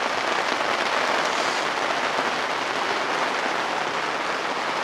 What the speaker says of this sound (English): here come the big spots of rain.